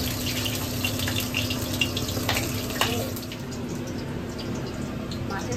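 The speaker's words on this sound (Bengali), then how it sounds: "কাঁচা মাছ ভাজা হচ্ছে এখানে গরম।" Raw fish fries in hot oil for a fish curry, giving a continuous loud sizzle and hiss with a few brief crackles, while a voice talks intermittently over it.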